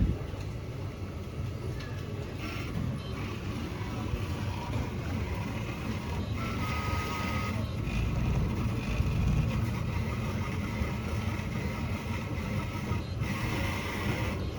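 3D printer working on a library floor in Helsinki, a steady mechanical whir with faint higher motor whines coming and going, continuous and moderately close.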